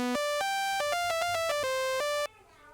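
Bright, buzzy saw-wave synth tones from the Audiothing Minibit plugin play a quick stepping melody of about a dozen short notes, then cut off abruptly, leaving a faint tail.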